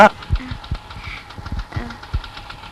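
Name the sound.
scooter engine running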